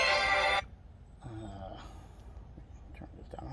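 Mobile phone ringtone from an incoming call rings loudly for about half a second and cuts off, followed by quiet rustling, soft breaths and faint background noise.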